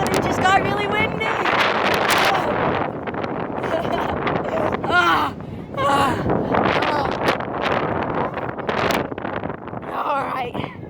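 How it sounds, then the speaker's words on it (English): Strong gusting wind buffets the microphone in rough, loud surges while a person talks and exclaims over it, on an outdoor tractor parkour stunt. "it just got really windy"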